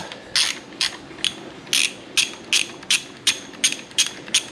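A ratchet wrench loosens a Torx 25 bolt on a motorcycle handlebar switch housing, giving about ten close, crisp clicking bursts in a steady rhythm with nothing else beneath.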